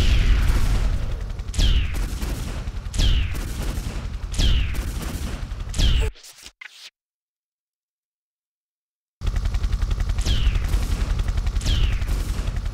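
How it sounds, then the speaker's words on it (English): Lara fires her guns in the video game Tomb Raider 3: a steady series of loud, sharp gunshots repeats roughly every second, then cuts to silence for about three seconds before rapid shots resume. "She's taking extra shots somehow."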